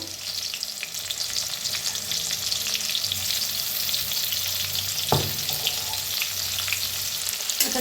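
Garlic pounded with crushed salt fries in a pan with an even, loud crackling sizzle, and a single sharp clack of a spatula lands midway. No one speaks.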